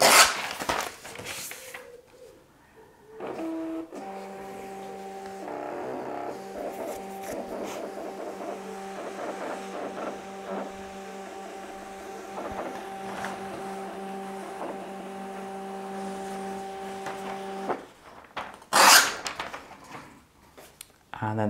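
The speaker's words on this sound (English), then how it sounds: "the printer will just carry on printing" An HPRT MT810 wireless portable printer feeds and prints pages, giving a steady mechanical whirr with tonal hum that runs for about fourteen seconds, then stops. A person talks at the start and end, and a short rustle follows.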